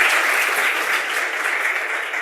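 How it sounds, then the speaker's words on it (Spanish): An audience at a business talk applauds, dense steady clapping that fills the room and fades slightly toward the end. "Un aplauso también para el equipo de SIC"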